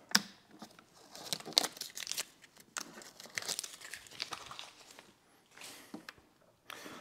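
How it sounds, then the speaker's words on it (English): Adhesive tape peeled off the mounting surface while fitting a trunk light strip on a 2021-or-newer Honda, heard as quiet close-up crinkling and tearing rasps in uneven bursts with no talk. "And then we're going to pull the tape."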